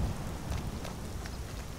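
Steady rain falling, a dense continuous patter with low rumbling underneath, no voices.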